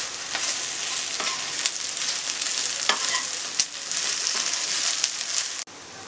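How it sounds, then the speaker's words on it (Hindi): Okra masala coated in gram flour sizzles and fries in a pan while being stirred, a continuous close crackle punctuated by scraping strokes of the spoon and a few sharp clinks. "अच्छे से इसे मिक्स करते हुए हमें इसे तकरीबन 3 से 4 मिनट फ्राई करना है।"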